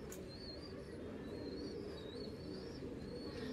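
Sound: pigeons cooing

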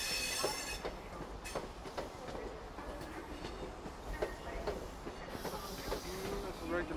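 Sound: GWR high speed train passing through station

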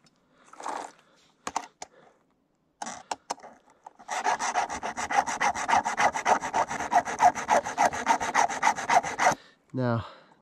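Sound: filing a chainsaw chain

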